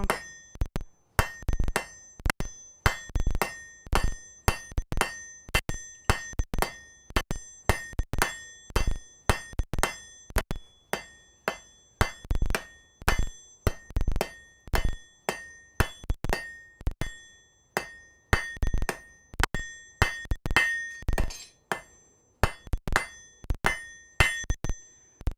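Sharp metallic hammer blows ring out one after another in a smithy, in a steady, uneven rhythm, each strike bright and clanging with a lingering ring.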